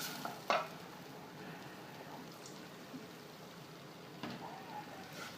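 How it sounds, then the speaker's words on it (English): A vegan cheese paste is stirred in a pan with a soft steady sizzle and scraping, plus a few sharper utensil clinks against the pan. "And keep stirring."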